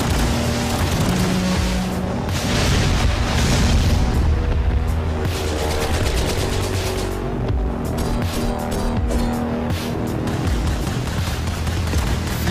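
Missile explosions and battle noise in the video game Katana Zero, a continuous loud wash of booms and crashes with repeated impacts layered under game music, no voices.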